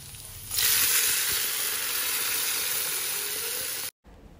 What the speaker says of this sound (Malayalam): ഉള്ളിയും ഇതൊക്കെ ഇട്ടിട്ട് വറവിട്ടെടുക്കുകയാണ്